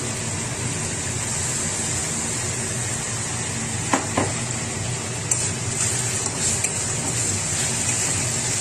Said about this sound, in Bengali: আদা রসুন দেওয়ার পরে কিছুক্ষণ নেড়ে যাতে কাঁচা গন্ধটা চলে যায়